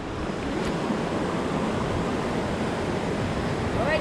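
Steady rushing water at the Panicuason hot spring resort in Naga City, a continuous broadband wash with some wind buffeting on the microphone and no clear speech.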